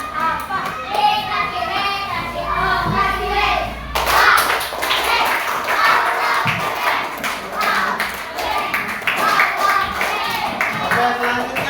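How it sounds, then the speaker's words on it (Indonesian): Applause for a student group in a classroom coding presentation, with dense clapping from a crowd of children building from about four seconds and continuing steadily, mixed with chatter and light thumps. "beri aplaus kepada kelompok"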